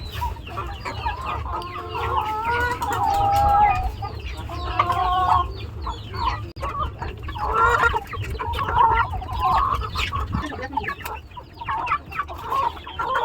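Desi and tiger chickens, with ducks nearby, cluck and chatter while eating nourishing feed, a close, busy flock of overlapping calls throughout with no speech.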